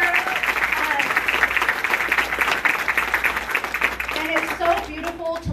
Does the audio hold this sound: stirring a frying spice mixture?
no